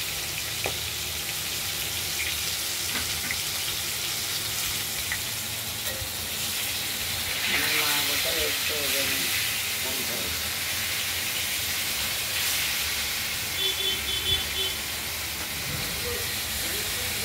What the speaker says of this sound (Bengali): মাছগুলো ভাজা চলছে দেখতেই পাচ্ছেন।